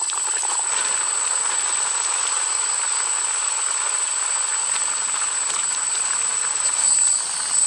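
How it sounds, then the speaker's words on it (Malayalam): Raw nendran plantain slices fry over a medium flame in hot coconut oil for Kerala ethakka upperi, giving a continuous, even, loud sizzling hiss close by with no voices. "നമ്മളൊരു മീഡിയം തീയിൽ ഇത് വറുത്തെടുക്കണം കേട്ടോ"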